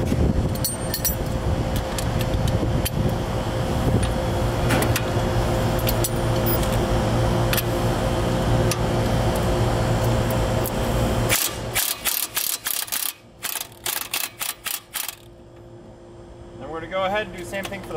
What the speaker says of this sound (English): I'm gonna go ahead and grab my socket and my breaker bar and go to work.